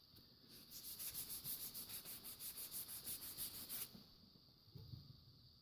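Wet sandpaper rubs back and forth along a steel tanto blade in quick, even strokes for about three seconds, close and fairly quiet, then stops, leaving faint handling noise.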